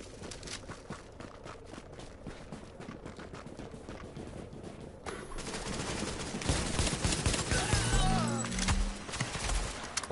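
Gunfire in The Division, rapid bursts crackling through the dark zone, growing denser and louder in the second half amid other game noise.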